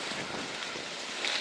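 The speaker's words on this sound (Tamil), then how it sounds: "நல்ல காத்துண்ணே" Steady wind blows across a cashew farm in the Vanni forest, a broad, continuous rushing roar buffeting close to the microphone with a slight gust near the end.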